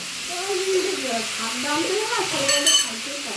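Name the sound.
cooking pumpkin greens sizzling in a pan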